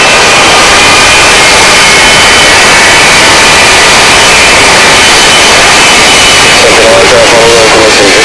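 A loud, steady C-17 jet engine roar during startup fills the whole stretch, broad and hissing, with a faint rising whine near the end.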